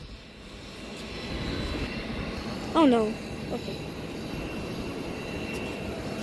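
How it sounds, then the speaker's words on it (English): A FedEx Express cargo plane on the ground after landing gives a steady engine roar with a soft whine, while a person speaks briefly nearby. "that was definitely a plane that just landed."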